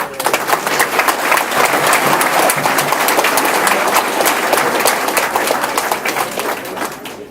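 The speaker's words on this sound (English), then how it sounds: "Another round of applause." Sustained applause from a large crowd at a veterans' salute breakfast, steady and loud throughout, tapering slightly at the end.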